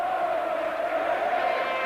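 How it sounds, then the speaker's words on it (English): A large rugby league crowd at a Hunslet versus Workington Town match cheers in a steady, sustained roar heard from within the stands. "Crowd delighted."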